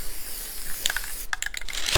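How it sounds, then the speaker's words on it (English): Adhesive spray hisses from an aerosol can onto a faux primitive apple pie, a broad airy burst with a few short clicking puffs near the end, close and fairly loud. "I'm going to spray a good little area here."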